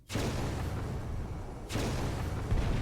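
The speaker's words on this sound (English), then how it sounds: "Now plasma blasters." Plasma blasters fire in a battleship strategy game in two loud, heavy bursts, the second starting sharply partway through, each a roaring, sustained barrage with no talking.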